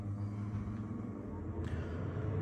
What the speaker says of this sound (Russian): шум от ламинарного бокса будет мощный, потому что он гудит сильно.